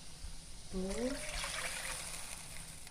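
Water is poured into a cooking pot for milkfish soup with malunggay, giving a steady, soft splashing rush that lasts about two seconds. A brief spoken voice is heard at the start of the pour.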